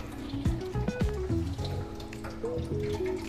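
A faucet runs into a granite countertop sink in a newly finished house, with close trickling water and bright ringing drip tones rising and falling over a steady wash.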